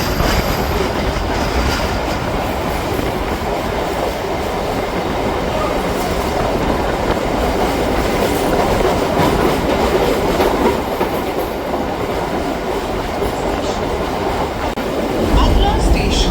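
A Majherhat to Barasat local train runs on rails near Khidirpur, giving a continuous loud rumble with rhythmic clickety-clack and occasional wheel squeal throughout, with no talk.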